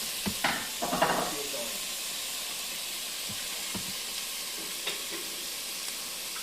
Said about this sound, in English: let that cook in that pan